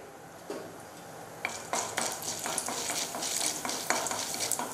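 Urad dal and chana dal fry in sesame oil, a quiet sizzle at first, then a spoon scrapes and clatters against the pan in a quick run of strokes, close and moderately loud, no talking.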